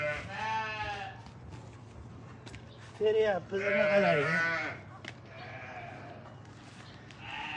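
Sheep bleat loudly and close by on a farm, a wavering cry near the start and a longer overlapping burst midway, with someone talking over and between the calls.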